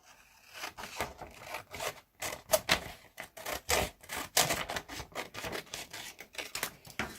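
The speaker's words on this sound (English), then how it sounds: "Scissors and cut it off." Repeated crisp snipping of scissors and rustling of paper, a series of short close-up cuts in an uneven rhythm, with no talking.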